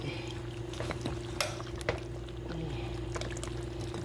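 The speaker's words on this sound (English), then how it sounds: "Half a cup of water in there." Water is poured into a pan of gravy, a quiet liquid trickle under a low kitchen hum, with a couple of sharp clinks of a utensil against the pan.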